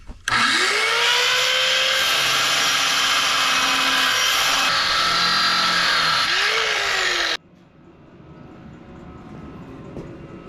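A small saw cuts through steel rebar in a loud, steady, shrill grind that runs about seven seconds with a shift in pitch midway, then stops abruptly and leaves quieter background noise.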